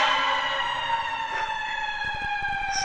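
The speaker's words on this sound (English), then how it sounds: "just like that siren trying to pound down my voice" An emergency vehicle siren wails loudly and continuously outdoors at a San Francisco press conference, its rising and falling tones dominating with no speech over it.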